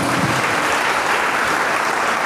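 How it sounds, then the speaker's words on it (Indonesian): Steady, dense applause from a church congregation, sustained and fairly loud throughout without a break. "Beri tepuk tangan kepada Tuhan"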